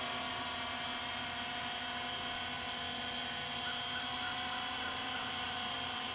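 A Syma X8C quadcopter drone hovers outdoors in a light breeze, its rotors producing a steady, high-pitched whine that stays close and constant.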